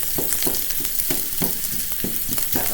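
Onions browning in a hot pan for cabbage and noodles, a steady loud sizzle broken by regular scraping stirs, close up, with no voices.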